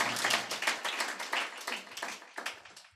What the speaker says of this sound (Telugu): చప్పట్లు కొడతావా ఓసారి?